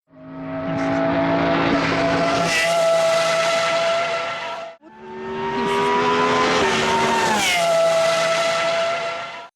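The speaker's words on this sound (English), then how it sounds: "The Doppler effect is the naturally occurring phenomenon that alters the perceived pitch of a moving sound source." A game projectile passes by twice, each a loud whooshing hiss with a whistling tone that swells, then bends downward in pitch with the Doppler effect as it goes by, with a brief gap between the two.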